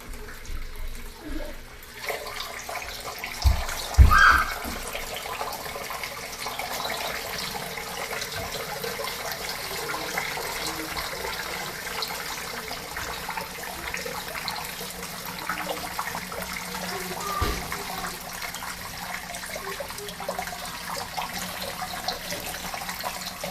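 Water runs and spills through reef aquarium plumbing as the tank starts to overflow, a steady trickling, gurgling flow that continues for over twenty seconds, with a louder splash early on.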